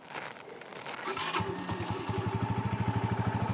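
An Orcal Astor 125cc motorcycle engine starts with a brief cranking whir, catches, and settles into a steady, rapidly pulsing idle heard up close.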